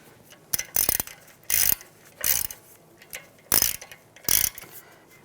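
Ratcheting clicks while a screw is run in on the rear brake rotor of a 2009-2013 BMW 328i xDrive, six short close bursts at a steady pace, no talking.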